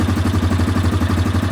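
A 2024 Yamaha Grizzly 700 EPS SE ATV engine idles close by with a rapid, even low-pitched thumping pulse and slight mechanical clatter, loud and steady throughout.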